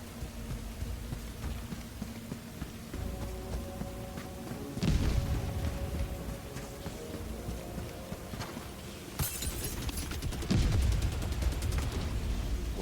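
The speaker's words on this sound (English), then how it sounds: "What are those explosions?" Loud booms and bursts of gunfire from the video game Helldivers 2, with heavy blasts around the middle and near the end over constant rumbling battle noise.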